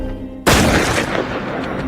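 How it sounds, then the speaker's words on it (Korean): A single sharp gunshot cracks out in a desert setting during a film scene, an abrupt loud blast followed by a long, noisy decaying echo. "사막을 가르는 또 한 발의 총성."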